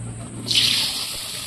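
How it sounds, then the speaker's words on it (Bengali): Garlic dropped into hot oil, a sudden bright hiss of frying that swells and settles into a steady sizzle, close and fairly loud. "তো তেলে দিয়ে দেবো রসুন।"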